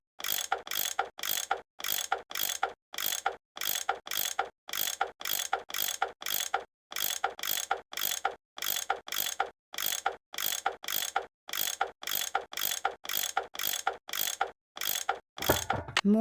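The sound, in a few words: unscrewing bolts with a tool, from the video game Nancy Drew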